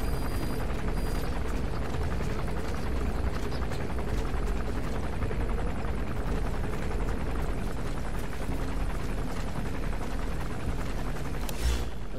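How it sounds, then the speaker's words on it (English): A helicopter in Metal Gear Solid V: The Phantom Pain lifts off with a steady, loud rotor thrum and engine roar that fills the scene continuously. "forgot that this guy takes off on the chopper"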